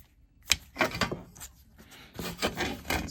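Stainless steel trim being hand-sanded to work out marked scratches before buffing, heard as a series of close, raspy abrasive strokes in uneven bursts, with short pauses between passes.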